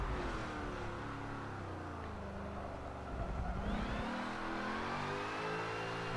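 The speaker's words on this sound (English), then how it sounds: "pull the handbrake, and then just continue that power slide coming out of the corner" A car drifts through a corner in a handbrake power slide, its engine droning and revving with shifting pitch, picking up again partway through, heard steadily from a moderate distance without talk.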